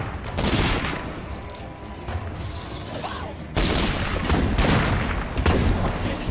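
Rapid video game gunfire, loud and dense, with a shootout around a building: bursts of shots and booms blend with mechanical clatter throughout, intensifying in the second half.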